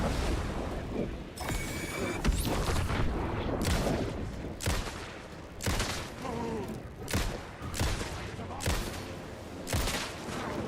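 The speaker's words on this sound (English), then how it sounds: "I thought that flashbang was supposed to deal heavy damage." In the Alan Wake 2 video game, a series of sharp, loud blasts goes off one after another. Several booming bursts with gunfire-like cracks ring out at irregular intervals over a noisy background.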